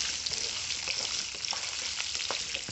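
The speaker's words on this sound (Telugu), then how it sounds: "వేసుకున్నాక బాగా వేపుకుందాం." Garlic cloves and tamarind frying in oil in a pan, a steady close crackling sizzle with scattered pops throughout, no talking.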